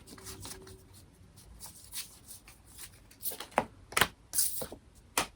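Tarot cards being flipped over one by one in a deck, heard as a quiet run of soft papery flicks and slaps that grow crisper and louder toward the end, with no talking.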